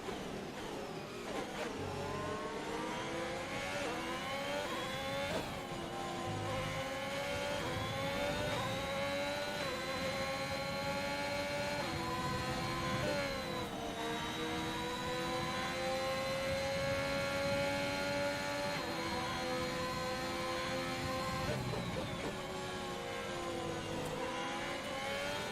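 F1 2021 race cars at Spa, Belgium, with steady high engine whine throughout, pitch rising and falling through gear changes as cars race along the straight with DRS open, loud and continuous with no talk.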